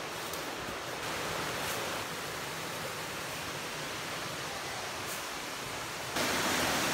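Creek water rushes steadily at the junction of Rocktown Branch and Allen Creek, a dense, even wash of flowing water close by, growing slightly louder near the end.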